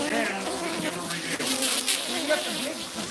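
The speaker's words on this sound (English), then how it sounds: "They're Africanized honeybees here down on the border" Africanized honeybees swarming at the border, a dense, continuous buzzing hum that fills the scene from close range, steady throughout with slight swells.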